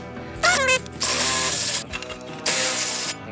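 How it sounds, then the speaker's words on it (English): A handheld drill boring holes in a metal can light housing, heard in three short loud bursts, each starting with a rising whine and separated by brief pauses. "when you drill holes into something like this, you want to move the drill around a little bit"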